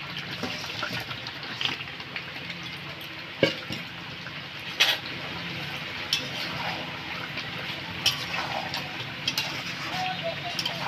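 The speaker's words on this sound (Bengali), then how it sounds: "এবার দেবো ভেজে রাখা আলুটা" Fried potatoes going into a pan of tempered spices and being stirred for a white aloo dum: steady loud sizzling with scattered spoon knocks against the pan.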